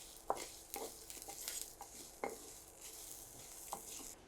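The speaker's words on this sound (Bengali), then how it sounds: "যে ধনিয়াগুলো ভাজা হয়ে গেছে, ফুটতেছে, আর মরিচটাও ভাজা হয়ে গেছে" Whole coriander seeds and chillies frying in oil in a pan, a steady soft sizzle broken by sharp crackles and pops as the seeds burst, with occasional spoon-stirring scrapes, fairly quiet and close.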